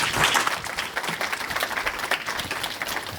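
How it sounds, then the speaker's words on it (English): A conference audience applauds a panel, dense steady clapping from many hands filling a hall at moderate loudness, with no voices over it. "you can't give the panel a better round of applause than Nishani."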